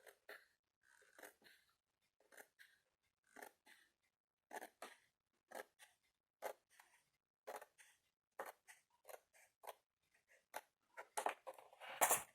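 Paper sliced on a faulty guillotine trimmer: a string of short, crisp cutting and snapping strokes in irregular bursts, ending in a louder, denser cluster of cuts.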